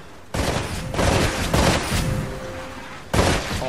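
Rifle shots hit shooting-range targets in the Titanfall video game, with several loud, sharp bursts of gunfire in an irregular rhythm and a short lull before a final volley.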